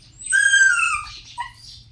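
Several dogs whimper and whine behind a house as their owner leaves, a close, high, drawn-out cry with wavering tones followed by a shorter, softer whine.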